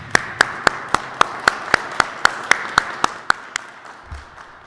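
About fourteen evenly spaced sharp claps in a steady rhythm, loud and close, at a firefighter academy graduation ceremony, then fading to quiet room tone.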